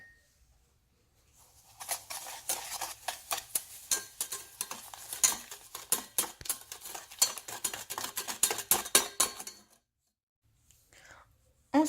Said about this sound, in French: je vais commencer à battre mes 3 œufs avec mes 150 grammes de sucre